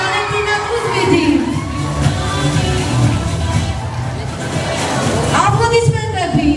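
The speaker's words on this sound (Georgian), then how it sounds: "აპლოდისმენტები." A large audience at a dance school performance claps and cheers steadily, a dense, continuous wash of applause with scattered whoops and crowd voices throughout.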